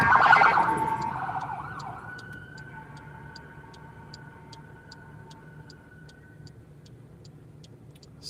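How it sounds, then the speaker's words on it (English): An ambulance siren wails past in traffic, heard from inside a car on a delivery drive. It is loud and sweeping for the first two seconds, then settles into steadier, fainter tones with soft regular ticking underneath and no talk. "We got an ambulance coming through."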